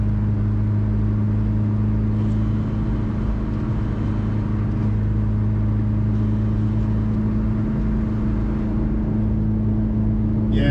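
Classic Mini engine running under acceleration, heard from inside as a loud steady low drone with a strong hum, holding fairly even throughout with no talk.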